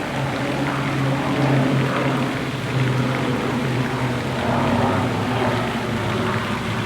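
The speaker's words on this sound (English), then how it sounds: "This is a private jet." A private jet flies overhead, a loud, steady low roar and drone that holds for several seconds with slight swells and no talking.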